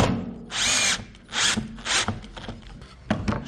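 Power drill driving screws into a wooden batten while fitting out a camper van, several short whirring bursts with pauses between them, close and clear.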